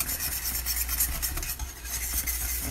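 Butter being whisked vigorously into a cake batter in a bowl: a dense, continuous scraping and swishing close by with a fast, even rhythm, and no voices.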